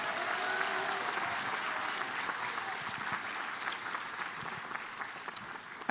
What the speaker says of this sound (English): Let's give a big round of applause to our extraordinary folks who helped you through this